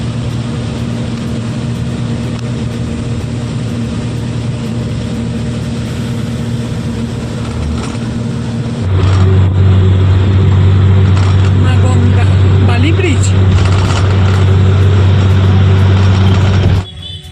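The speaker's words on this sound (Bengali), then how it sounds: "বাসটাও কিন্তু দারুণ চালাচ্ছে মানে যথারীতি দ্রুত গতিতে চলছে" A bus drives fast along a road in heavy rain near the airport in Rajarhat, Kolkata, its engine droning low and steady inside the cabin, shifting to a deeper hum midway, with a voice talking over it.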